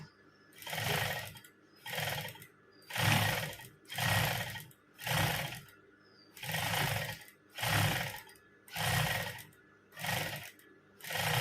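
A sewing machine stitches a two-layer fabric ruffle in about ten steady bursts of running, each a couple of seconds long and separated by short pauses, close and clear, with no talking.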